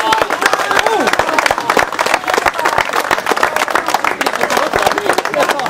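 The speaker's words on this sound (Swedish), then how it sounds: "Stora applåd!" A crowd at an outdoor scrap-collection diving event applauds loudly and steadily, with dense clapping and some cheering throughout.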